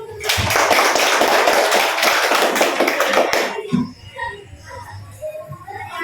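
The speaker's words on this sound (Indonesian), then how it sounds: "Sebelumnya kita tepuk tangan dulu untuk kita semua." A group of people applaud together in a classroom for about three and a half seconds, dense and lively, then the clapping stops and faint room sounds remain.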